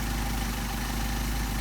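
A Mercedes 190SL engine with Solex carburetors idles in a steady, loud, unbroken drone, close by and without voices.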